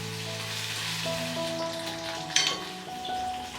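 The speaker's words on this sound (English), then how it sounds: "Frying the okra in some coconut oil till you see that gooey stretchy thing disappearing from it." Okra fries in coconut oil in a pan, giving a steady close sizzle with a brief clink of stirring near the end.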